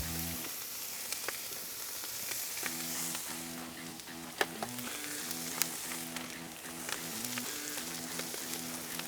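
Burnt ends sizzle steadily on a hot griddle for a Philly cheesesteak, with scattered scraping clicks and a low steady hum underneath.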